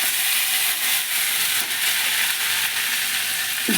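Spices frying with crumbled chhana, boiled potato and fried peanuts for a stuffed potato curry, a loud, steady sizzle and hiss from the pan that runs unbroken throughout with no voices.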